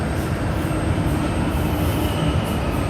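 A train at a railway station in Belgium rumbles loudly and steadily nearby, with clattering wheels on the rails and a faint high squeal, and no voices.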